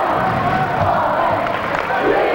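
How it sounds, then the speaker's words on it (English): A loud crowd roars and cheers in a gym at a high school basketball game, a dense, continuous wall of voices with no single voice standing out. "The crowd is loud."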